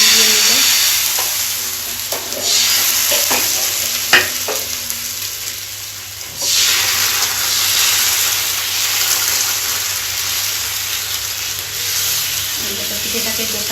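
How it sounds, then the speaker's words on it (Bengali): Oil is brushed onto a hot pan while a thin rice-flour pitha cooks, giving a steady soft sizzle with occasional scraping taps and brief flare-ups, moderately quiet and continuous. "এই দেখো তেল বুলিয়ে নিচ্ছে।"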